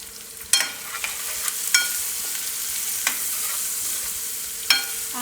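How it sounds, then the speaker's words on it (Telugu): Chopped large onion frying in a pan for a chana dal gongura curry, a steady sizzling hiss with a few sharp scrapes and stirring knocks spaced through it, close and fairly loud, no voices. "ఒక పెద్ద సైజు ఉల్లిపాయను కూడా కట్ చేసుకొని వేసుకొని ఫ్రై చేసుకుందాం"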